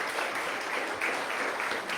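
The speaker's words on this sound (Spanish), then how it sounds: "Dale una ofrenda de palmas a Dios" A church congregation clapping together, a steady wash of many hands applauding at moderate distance, sustained throughout without pause.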